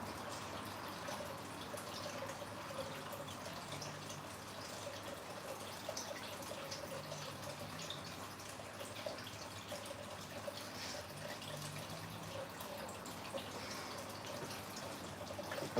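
Tap water running steadily into an aquarium tank during maintenance, a soft continuous trickle and splash with faint dripping, low and constant throughout with no talking.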